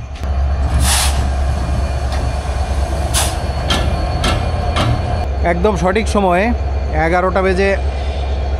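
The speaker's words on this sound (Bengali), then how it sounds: "11:48 এই ট্রেন পার্বতীপুর স্টেশনে প্রবেশ করছে" A train pulls into Parbatipur station with a steady, loud rumble throughout, while someone talks close by toward the end.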